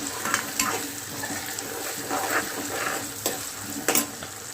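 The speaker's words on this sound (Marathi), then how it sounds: "आणि आपण चांगलं असं तेलामध्ये फ्राय करून घेऊया" Finely chopped tomatoes and onion fry in oil for matki khichdi, heard as a close, continuous sizzle broken by several sharp stirring scrapes and clatters against the pan.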